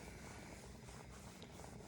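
A calico-faced feral cat purring outdoors at an oyster grilling spot, a faint, low continuous rumble, quiet and close, ending in a short louder bump.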